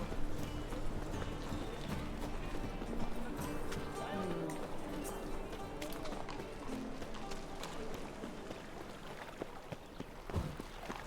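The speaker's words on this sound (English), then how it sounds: "Probably use my horse here." A horse gallops in Witcher 3: Wild Hunt, its hooves beating a steady, rhythmic clip-clop that runs throughout over a busy bed of game ambience.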